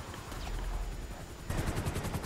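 Rapid bursts of gunfire from GTA 5 Online, a dense automatic rattle that grows louder and harder in the second half, with no talk over it.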